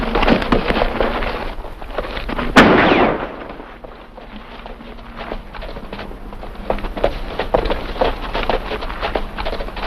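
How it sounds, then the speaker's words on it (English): A single loud gunshot cracks out in a 1950 western film scene, set amid clattering hooves and bustle of horses and riders, with the noisy action continuing at lower level afterward. "What's all this shooting for?"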